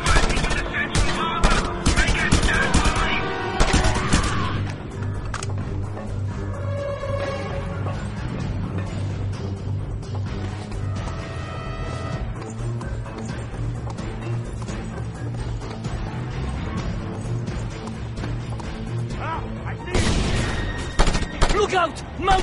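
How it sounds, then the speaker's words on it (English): Gunfire from a mounted gun during a stronghold takeover in the video game Just Cause 2, with dense bursts and booms at the start and end and a steady sustained din between, mixed with game music and effects. "Look out! Mounted gun!"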